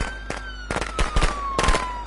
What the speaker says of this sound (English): I've got firecrackers on me now.